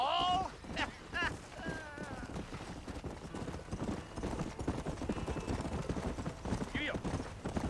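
In the game Red Dead Redemption, a horse's hooves clip-clop steadily and rapidly at a gallop, with a whinny near the start and voices talking over the hoofbeats.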